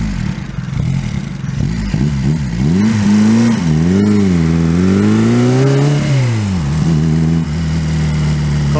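Reliant 750 trike engine running on the road, loud and close, its note swooping up and down as the throttle changes, briefly dropping to a lower, steadier drone near the end, with no talk.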